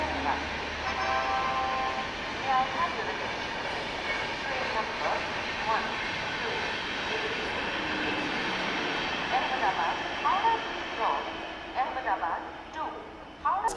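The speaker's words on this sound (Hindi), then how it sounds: "बाकी ये पैसेंजर ट्रेन, हाँ ये पैसेंजर ट्रेन ही है। ये तो एकदम ऑन टाइम यहाँ पहुँच गई" A passenger train pulls into an Indian railway station with a steady rumble and hum. Someone talks over the noise throughout.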